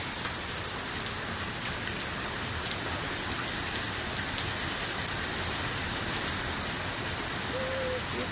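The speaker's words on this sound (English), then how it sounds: "You've got hail." Hail pours down steadily during a severe Texas storm, a dense, even hiss of pellets striking surfaces with scattered sharper clicks throughout, constant and fairly loud for the whole stretch.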